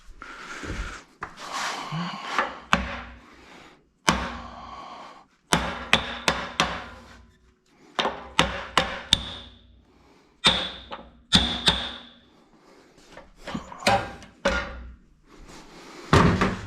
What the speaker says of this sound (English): Let's just freaking straighten it out with a hammer.